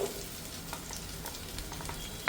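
Sliced large onions sizzle steadily in hot oil in a pan while a Nati Koli chicken curry is being cooked, a soft, continuous crackle with scattered small pops and no talking.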